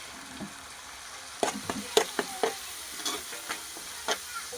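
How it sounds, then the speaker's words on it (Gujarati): Gram flour being stirred into capsicum gravy in a pan, with a spoon scraping and clicking against the pan in a string of short, close strokes over a faint sizzle. "આ રીતનો મિક્સ કરી લેવાનો શેણાના લોટને."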